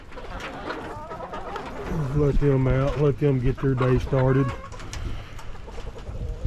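Chickens cluck and coo nearby in a quick run of calls, while a person speaks over them.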